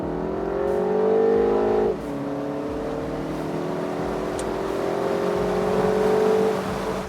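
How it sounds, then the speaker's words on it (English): MINI Convertible S engine accelerating at full throttle, heard from inside the car as a rising whine that drops at a gear change, then climbs again steadily with road and wind noise underneath. "when you push the pedal to the metal, this is how it sounds."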